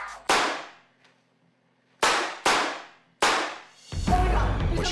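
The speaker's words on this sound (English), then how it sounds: "What she heard was gunshots" Gunshots ring out as a sound effect in a true-crime murder story, five sharp loud cracks with echoing decays, two spaced singly and two close together, followed by a rumbling crash and noise.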